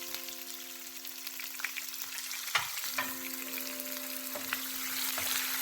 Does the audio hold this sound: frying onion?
yes